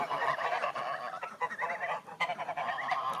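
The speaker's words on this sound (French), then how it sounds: "Donc voilà là les oies" A flock of geese honks noisily and continuously up close, overlapping calls with no pause.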